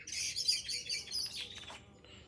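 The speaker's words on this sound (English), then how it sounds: "Blackbird singing away." A blackbird sings a quick run of bright, fluttering chirps and whistles in a garden on a late May early morning, fairly faint and alone, tapering off after a couple of seconds.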